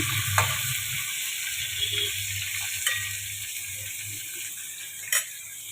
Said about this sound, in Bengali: পটলটাকে দিয়ে দিলাম, আলুটার আগে পটলটা একটু ভেজে নিয়ে তারপরে আমি